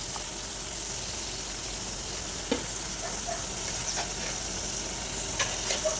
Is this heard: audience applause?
no